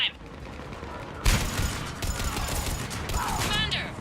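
Sustained gunfire in the video game Mass Effect 3, dense rapid shots kicking in after a brief lull and continuing steadily, loud and close, mixed with game effects and background combat noise.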